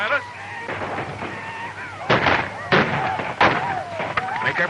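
Gunfire in an old western movie battle, several sharp shots cracking at irregular intervals amid shouting voices, whinnying horses and general battle commotion, with people talking throughout.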